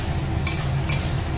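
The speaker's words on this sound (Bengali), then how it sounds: "ছোলাটাকে ভালো করে কষিয়ে নিচ্ছে" A utensil scrapes twice through boiled chickpeas cooking with spices in a pan, two quick strokes over a low steady sizzle.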